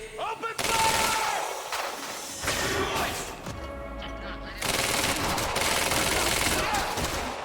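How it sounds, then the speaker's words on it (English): Rapid automatic gunfire in Quantum Break, loud and sustained bursts with a brief lull in the middle, mixed with impacts and game sounds. "Open fire!"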